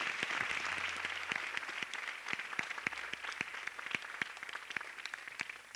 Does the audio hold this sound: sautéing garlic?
no